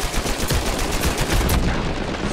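Rapid gunfire from an Uncharted 4 multiplayer match, dense bursts of shots crackling almost without pause through the whole stretch, loud and close with a busy game mix underneath.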